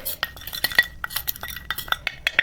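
A spoon stirs face pack powder with rose water in a small bowl, giving a quick run of light metallic clinks and scrapes against the dish, close by, with no talking.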